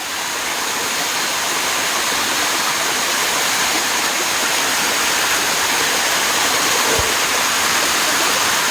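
A waterfall at a curug near a sacred spring roars in a loud, steady broadband rush of falling water, close by and unbroken, with a single soft thump partway through.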